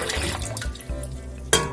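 About two litres of water pour from a tap into a cooking pot, a continuous close splashing and gurgling that shifts in tone, ending with a sharp clunk.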